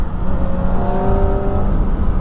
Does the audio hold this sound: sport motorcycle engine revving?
yes